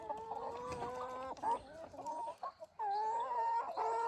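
Chickens in a coop after catching a mouse, clucking and squawking excitedly in overlapping bursts, close and clear, with short pauses between calls.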